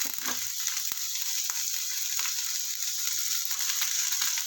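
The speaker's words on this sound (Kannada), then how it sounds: "1-2 ಸ್ಪೂನಷ್ಟು ಎಣ್ಣೆ ಹಾಕ್ಬಿಟ್ಟು ಈರುಳ್ಳಿ ಹಸಿಮೆಣಸಿನ್ಕಾಯಿ ಫ್ರೈ ಮಾಡ್ಕೊಳ್ಳೋಣ" Sliced onion and green chillies fry in a spoonful or two of hot oil for mutton biryani, a steady close sizzle with faint scraping of stirring, no voices.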